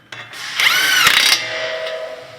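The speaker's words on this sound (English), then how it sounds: "And then you can tighten it with your wrench or your gun." A new outer tie rod nut on a Honda being tightened with a wrench or power gun: a loud mechanical whirring burst of about a second, with a sharp click, then a fainter steady hum.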